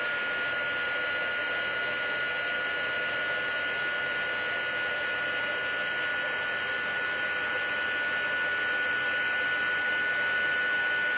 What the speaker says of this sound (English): I'm going to take my heat tool. And I'm just going to heat that up.